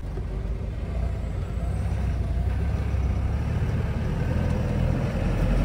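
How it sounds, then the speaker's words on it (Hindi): Truck traffic on a road in Assam at evening, a steady loud rumble of heavy engines and tyre roar close by, with a faint hiss like an air brake; no talk. "गाड़ी बहुत ज़्यादा स्पीड में आ रही है"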